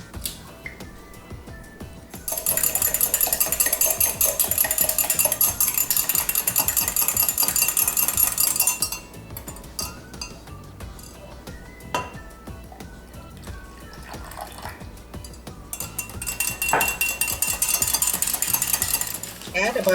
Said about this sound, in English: Whisk 1 egg